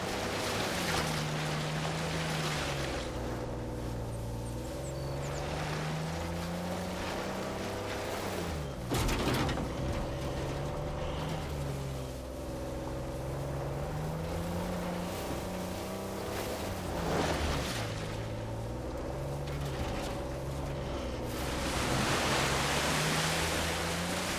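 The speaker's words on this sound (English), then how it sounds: "A secret cave behind a waterfall." Rushing water of a waterfall near a hidden cave in the video game Uncharted 4, a loud continuous roar mixed with game music and tonal effects, with sharp whooshing bursts now and then.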